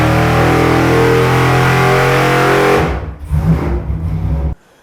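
Chevy 327 small-block V8 with a solid roller cam, built for high RPM, holding a loud sustained rev close by, then dropping off, blipping rough and choppy, and cutting out abruptly.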